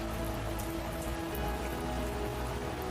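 Steady, dense rain falls for a cartoon story, a continuous hiss of drops pattering on surfaces with no pauses and no voices.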